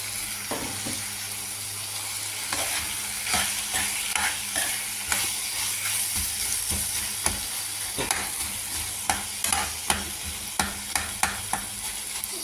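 Onion and tomato fry in a pan for a tangy chutney, with a steady sizzle broken by repeated scraping stirs of a spatula that build into louder clacks toward the end; no one speaks.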